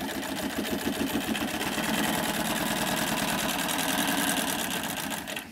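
A long arm NC1508L sewing machine stitches fabric with binding tape attached, running steadily at close range with a fast, even mechanical chatter that holds for the whole stretch without pause.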